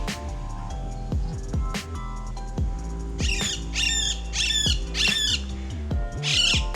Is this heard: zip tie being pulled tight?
no